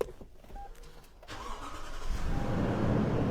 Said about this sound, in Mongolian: 5700 моторыг асаая.